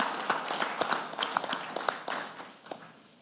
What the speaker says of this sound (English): So please give them a round of applause for the hard work that they put in today.